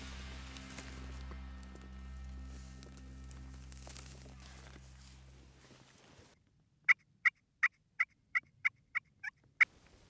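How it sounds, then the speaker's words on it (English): Wild turkey gobbling out in the field during a hunt, a quick series of sharp, rapid gobble pulses near the end after a stretch of rumbling background noise and rustling. "We got a turkey on the other side of the hill."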